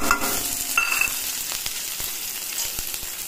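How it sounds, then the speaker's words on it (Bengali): Three small-chopped onions fry in hot oil in a wok, giving a bright, steady close-up sizzle with faint stirring ticks throughout. "তেল গরম হয়ে গেছে, এখন 3খানা পেঁয়াজ কেটে দিয়েছি ছোট ছোট করে"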